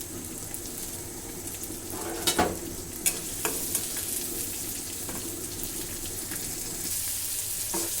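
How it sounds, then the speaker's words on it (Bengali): Chopped onion and green chili fry in hot oil in a wok, giving a steady, close sizzle broken by a few scraping stirs and light clatters of the spatula. "একটু পেঁয়াজ কাঁচামরিচ ভেজে নিব"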